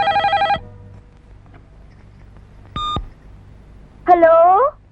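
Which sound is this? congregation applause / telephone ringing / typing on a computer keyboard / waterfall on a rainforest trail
telephone ringing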